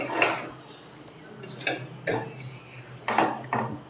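Four pieces of marinated Al Faham chicken are set onto an oven tray. A few light metallic clinks and knocks sound close by, spaced irregularly over quiet room noise.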